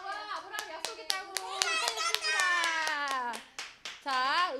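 Children clap along in a church children's class, with sharp, scattered hand claps landing in a loose rhythm while a voice chants and sings loudly over them.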